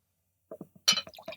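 Founders KBS bourbon barrel stout being poured from the bottle into a glass: a few soft clinks and splashes, then a brief burst of gurgling liquid, close and fairly quiet, with no talking.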